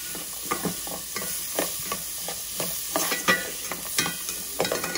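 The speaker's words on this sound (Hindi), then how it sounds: "वेजीज को फ्राई करेंगे और इसको हम हाई फ्लेम पे फ्राई करेंगे" Onions and carrots stir-frying over a high flame, with continuous loud sizzling and repeated scraping clatters of a spatula tossing the vegetables in the pan at a quick, irregular rhythm.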